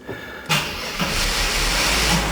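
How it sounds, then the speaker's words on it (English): A 1989 Mercedes 300E convertible with a weak battery cranks briefly, then fires and settles into a steady idle with a broad hiss, close and fairly loud. "I've got to start it to run the roof"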